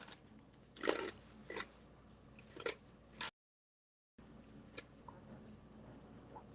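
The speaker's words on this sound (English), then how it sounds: "Sorry if you heard me crunching ice" Ice being crunched between the teeth, a few close, sharp bites spaced about half a second apart, then a brief silent gap and fainter chewing afterward, with no talk.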